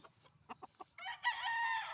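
A rooster crows once, loud and close, following a few short clucks.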